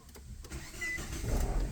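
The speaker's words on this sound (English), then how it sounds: "listen to it start right up." A 2010 Nissan Cube's engine cranks and catches in a brief start, rising from a faint whir into a steady idle heard close by.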